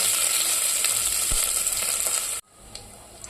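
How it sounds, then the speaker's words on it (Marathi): Ginger garlic paste drops into hot oil with cumin seeds, giving a loud, close, crackling sizzle that cuts abruptly to a quieter fizz after a couple of seconds. "आता मी 1 चमचा अद्रक लसूण पेस्ट टाकत आहे."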